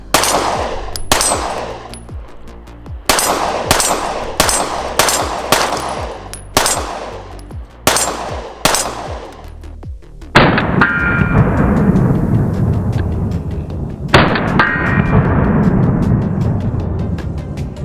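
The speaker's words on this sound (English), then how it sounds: "Can I still shoot it really well?" An HK VP9 pistol is fired repeatedly on a range, sharp loud single shots in quick irregular strings followed by two heavier blasts with long rolling echoes, no talking.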